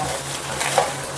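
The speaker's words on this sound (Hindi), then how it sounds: "हे सगळें आतां मातशें मिक्स करपाचें" Spice mixture with coriander powder being stirred and roasted in a pan for a Goan crab masala, with soft scraping and faint sizzling and a brief utensil clink, close by and alone.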